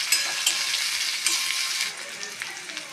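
Sliced onions fry in a pan with a loud, continuous crackling sizzle, punctuated by light scraping stirs throughout, heard close up without any talking.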